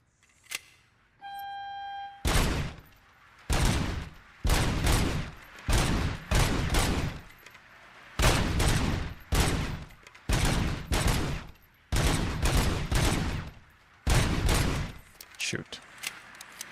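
Gunshots in a video game ring out as a series of loud, sharp blasts, each followed by a brief decay, spaced about a second apart, after a short tonal chime at the start.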